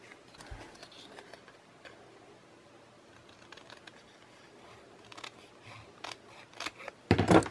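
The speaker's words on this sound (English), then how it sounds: "So what I like to do with these ones is I go ahead and cut them in half." Scissors cut paper belly-band pieces in half, with soft, sparse snips and rustles, quiet and close, ending in a louder burst of paper handling.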